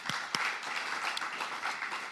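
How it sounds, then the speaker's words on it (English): Attendees at a financial inclusion forum clap together at the end of a long day, a fairly soft, even patter of many hands with a few sharper individual claps near the start. "Can we give ourselves a clap?"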